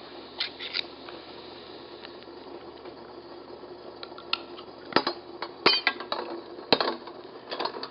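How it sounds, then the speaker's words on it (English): A ThermoVape vaporizer device rattles in a pot of boiling water, with a steady low bubbling bed and scattered sharp metallic knocks and clinks that grow busier toward the end, no voices. "I can just drop this whole thing right in the pot"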